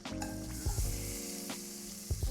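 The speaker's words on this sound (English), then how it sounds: "get some butter in the pan. Then add your onions." Onions sizzle in butter in a pan for a burger, a steady close frying hiss with a few brief stirring scrapes and clinks, no voices.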